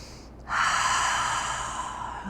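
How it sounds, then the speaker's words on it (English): A single long, forceful cleansing exhale during a yoga class, breathy and close, starting abruptly and trailing off steadily over about two seconds, with no talking. "Cleansing breath"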